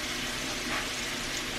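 Eggs frying in a dedicated cast iron pan, a steady hissing sizzle at close range with no talk over it.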